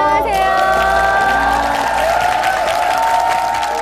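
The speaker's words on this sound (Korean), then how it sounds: "환영의 박수 부탁드립니다." A TV studio audience claps steadily and loudly for several seconds while sustained music tones play over the applause.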